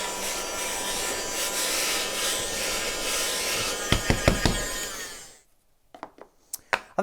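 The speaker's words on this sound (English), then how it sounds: "That is a very nifty little hoover." A Ryobi 4V USB cordless hand vacuum sucks up sawdust with a steady, close whirring hiss for about five seconds. A few knocks follow before the motor cuts out, leaving quiet with scattered clicks.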